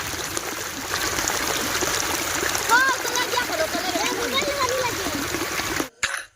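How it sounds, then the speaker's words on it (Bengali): Heavy rain pours steadily with water streaming and splashing down from a hillside, a dense wash of splatter and trickle close by for most of the stretch before cutting off abruptly near the end. "একদিকে বৃষ্টির জমজম শব্দ সেই ফাঁকে পাহাড় থেকে বৃষ্টির পানি পড়ার শব্দ ভালোই লাগতেছে"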